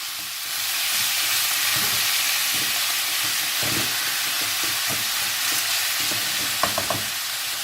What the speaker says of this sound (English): So our goal here is to brown the meat